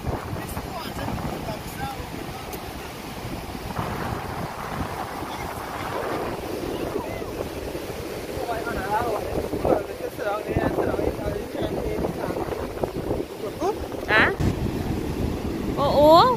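Waves washing onto a beach at Manzanilla or Mayaro with people bathing, a steady surf roar under heavy wind buffeting on the microphone, with voices talking in the background.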